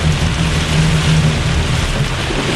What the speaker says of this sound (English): So let me just drive through here, and you can see the heavy rain.